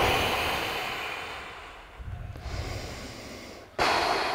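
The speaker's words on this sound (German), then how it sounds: "Atmen." A person breathes audibly during a stretching exercise, a long slow exhale fading out, then a sharper nasal inhale and a sudden louder breath close to the mic.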